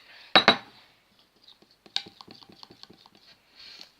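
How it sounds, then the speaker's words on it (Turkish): Slime is stirred in a bowl: two sharp wet clicks, then a patter of soft sticky taps and squelches that fades into a faint smeary swish. "Ben şöyle gördüğünüz gibi karıştırıyorum."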